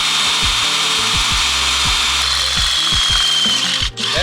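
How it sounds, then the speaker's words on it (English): An electric rivet tool setting a rivet during a roof rack and side panel install for a 2025 Toyota 4Runner, giving rapid, repeated mechanical pulses with a whining tone, close and loud, with a brief dip near the end. "We have this new rivet tool that we got because we broke the other one."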